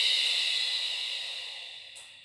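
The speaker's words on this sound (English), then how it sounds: "And exhale." A long, steady exhale of breath during a guided breathing exercise, a soft airy hiss that starts fairly loud and close and gradually fades away over about two seconds.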